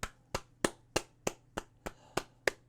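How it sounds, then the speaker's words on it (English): One person clapping hands, nine sharp claps in a steady, slightly quickening rhythm, close and dry with no voices. "I gotta give you guys applause."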